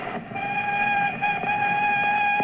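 A train gives off a steady, sustained tonal drone, like a whistle or horn chord, that holds loud and even throughout with no speech.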